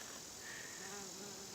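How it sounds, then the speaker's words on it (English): A faint, steady buzz of bees swarming over a long-blooming flowering plant in a garden, a continuous soft drone without talk. "you can see there's just bees all over it"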